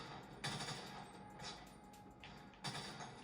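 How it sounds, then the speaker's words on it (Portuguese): Enemy gunfire in a shooter game streamed via Xcloud on a Fire TV Stick, a few short faint bursts of shots spaced apart over a low background. "Ó, tem um cara lá e tá atirando"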